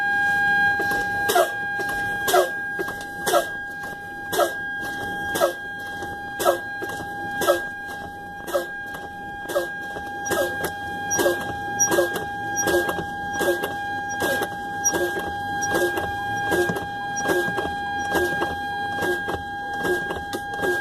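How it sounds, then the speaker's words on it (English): Truck cab during a CDL pre-trip air brake check, with the brake pedal fanned repeatedly: regular rhythmic puffs and hisses of released air roughly once a second, each paired with a thump, over a constant tonal hum. "I'm going to fan the brake pedal to approximately 20 to 40 psi, and the parking brake valve should pop out"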